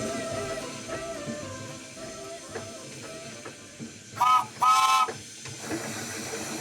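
Two short, loud steam whistle blasts near the end, following a steady background hiss and rumble of a moving locomotive.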